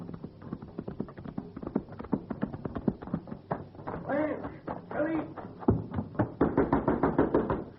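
Knocking on a wooden door in an old radio western drama, a run of quick hollow raps mixed with hoof-like clatter, heard under speaking voices and music.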